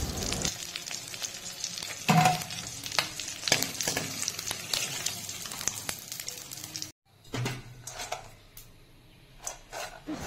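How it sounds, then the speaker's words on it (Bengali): Crab claws sizzle and spit in hot oil in a pan for a village-style crab curry, a steady dense frying hiss with stirring scrapes, cut off briefly near the end before resuming more quietly. "একই সাথে কাঁকড়ার দাঁড় ভেজে নেব।"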